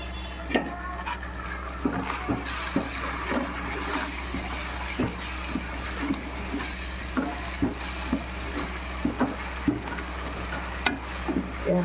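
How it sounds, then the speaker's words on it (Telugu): Mutton pieces frying in a pan for Rayalaseema-style leg piece biryani, with a steady sizzle under regular scraping strokes of a spoon stirring roughly once a second, close and fairly loud. "బాగా వేగనిద్దామండి దీన్ని ఇదిగండి బాగా వేగిపోయిందండి"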